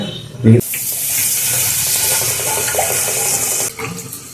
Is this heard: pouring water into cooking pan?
yes